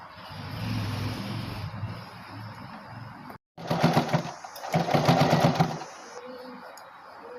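A sewing machine stitches fabric for an umbrella cut skirt, running in short bursts of rapid mechanical whirring and clicking with brief pauses between runs.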